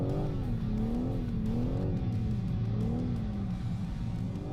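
A BMW drifts through a figure-of-eight on a driving course, its engine revving up and down in rolling waves with tyre noise, loud and continuous, with no one speaking.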